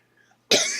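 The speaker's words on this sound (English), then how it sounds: "Excuse me. Still coughing." A single sharp, loud cough bursts in after a near-silent moment, close to the microphone.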